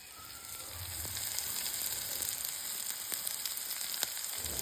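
Flattened rice (avalakki) sautéing in a hot pan for chitranna, giving a steady close sizzle and frying crackle with a few faint stirring scrapes and no voices.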